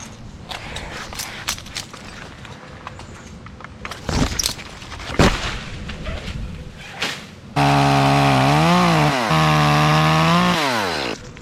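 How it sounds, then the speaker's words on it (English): Rustling and knocking among tree limbs over houses gives way to a chainsaw with a fresh chain roaring close and loud, its engine revving and holding steady for several seconds. "I got a new blade on that saw"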